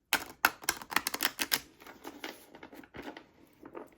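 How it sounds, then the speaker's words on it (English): A small deck of oracle cards is shuffled once up close, a quick burst of crisp clicking card slaps that thins out into lighter scattered taps. "I'm actually only going to shuffle these once because there's not that many of them."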